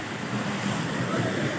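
Rushing water at Gajpalla waterfall in Gariyabandh, Chhattisgarh, a steady broadband roar that stays fairly even throughout, with no talk.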